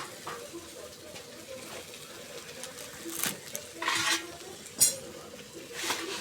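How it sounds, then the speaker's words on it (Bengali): A knife cuts potatoes and taro roots (kochumukhi) for a dried-shrimp dish, making scattered sharp chops and light clinks against a pan or plate over a quiet kitchen background. "এই জন্য আলু এবং কচুমুখিটা ভালো করে কেটে নেওয়া হচ্ছে।"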